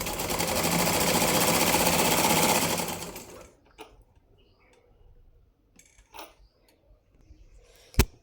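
A sewing machine stitches a straight seam through a blouse lining, running as a loud, steady whir for about three seconds before stopping, followed by a few quiet ticks and clicks of handling.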